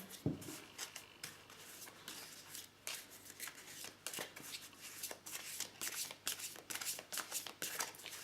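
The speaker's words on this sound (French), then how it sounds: "je vais tirer d'autres cartes" Tarot cards shuffled and drawn by hand, a rapid series of close, crisp riffling flicks and slides, fairly quiet, with no talking over them.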